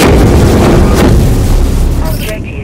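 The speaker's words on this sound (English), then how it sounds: "Null cannon targeting MCC." A null cannon blast in the video game Dust 514 hits with a loud, heavy boom and rumbling roar that fades toward the end, with a synthetic voice briefly heard.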